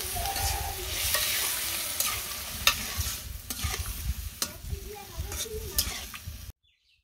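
Potatoes with green chilies fry in a pan and get stirred, giving a steady close sizzle broken by sharp scrapes and clinks of the spatula against the pan. No one speaks.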